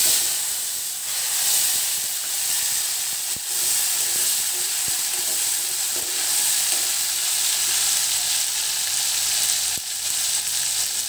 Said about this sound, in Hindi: उसके बाद उसमें डालेंगे टमाटर